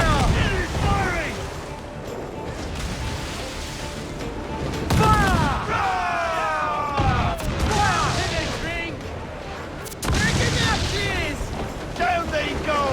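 Ship cannons fire in Assassin's Creed IV Black Flag, a series of loud booming volleys in bursts around five to seven and ten seconds, over a constant rumble of battle with a voice calling out.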